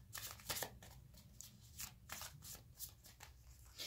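A deck of empowering question cards is shuffled and handled close by, with quick riffling bursts and papery flicks repeating in an uneven rhythm.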